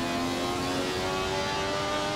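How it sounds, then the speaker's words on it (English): A Ferrari 312T Formula 1 race car engine in Assetto Corsa holds a loud, steady, close-up droning roar with strong harmonic tones for the whole clip, no voices over it. "Very torquey engine."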